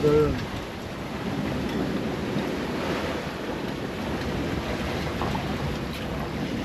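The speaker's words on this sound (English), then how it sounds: "let's just show you the size of the waves" A sailboat rides large waves in rough seas on a passage from Tahiti to Hawaii, with a continuous roar of surf and rushing water mixed with wind buffeting the microphone, close and loud throughout.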